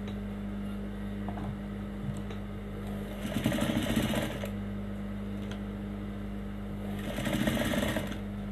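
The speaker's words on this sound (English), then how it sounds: "so I'm just going to edge stitch." A sewing machine edge stitching a dress, two bursts of rapid, rhythmic needle clatter lasting about a second each, separated by quieter motor hum and handling of fabric, moderately close.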